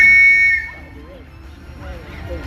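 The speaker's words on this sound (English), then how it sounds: "The whistle is going to come any minute." A sharp, steady whistle blast at a county fair event, loud at the start and stopping after about half a second, followed by quieter crowd and arena background noise.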